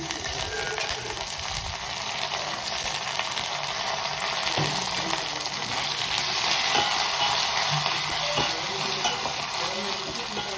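Steady hiss and crackle of curry leaves frying in hot oil for tomato dal tempering, close and continuous, with faint background voice.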